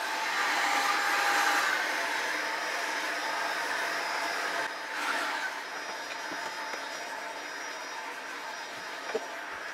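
A steady, loud whooshing hum from an A50S vacuum cleaner running in eco mode with a soft brush attachment, cleaning a TV cabinet, constant throughout with no talking.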